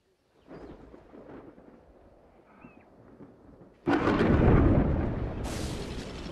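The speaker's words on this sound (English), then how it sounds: "The storm ignites the bush" A thunderstorm over the bush begins with low rumbling and rain-like noise, then a sudden loud, broad crash of thunder bursts in and rolls on heavily to the end.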